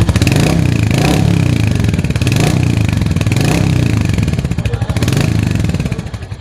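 Royal Enfield Hunter 350 motorcycle engine running steadily up close and loud, with a rhythmic rise and fall as the throttle is blipped several times, each rev swelling and settling back to a throbbing idle.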